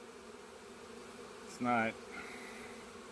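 A single bee buzzes briefly and close by within an arriving honeybee swarm, a short loud drone over a faint background hum, followed by softer buzzing and a brief voice.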